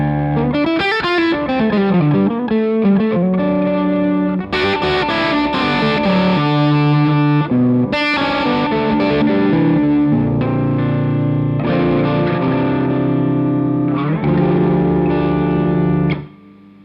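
Electric guitar through an Analogwise Skyrocket fuzz pedal with its boost engaged, loud saturated sustained chords and bending notes ringing continuously, then fading out at the end.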